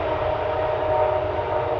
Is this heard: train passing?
yes